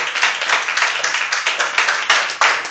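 Congregation applauding together inside a church, a dense and steady wash of many hands clapping with a loose, pulsing rhythm, loud and close, with no voices over it.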